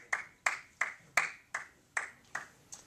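Eight separate, evenly spaced claps ring out in a quiet office, a sparse round of applause from a few coworkers, each clap sharp and fairly close, with no talking over them.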